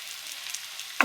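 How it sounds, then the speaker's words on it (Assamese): Cumin, coriander powder, turmeric and salt fry in oil with a soft, faint sizzle, then a sudden louder crackle at the very end. "গোটেইখিনি ভালকৈ ভাজি ল'ম"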